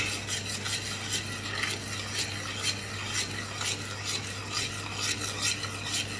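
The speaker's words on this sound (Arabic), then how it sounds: "كده حطيت الجوز هند 400 جرام، بقلب كويس." 400 g of desiccated coconut is stirred into a warm chocolate mixture for homemade Raffaello, making soft, continuous scraping and rubbing strokes close by over a low steady hum.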